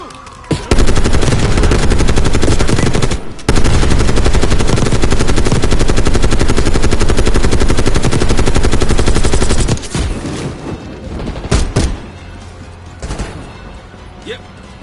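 Sustained machine gun fire in a Call of Duty Black Ops 6 campaign battle, a loud continuous rattle of rapid shots lasting about nine seconds, then fading into scattered noise with voices in the background.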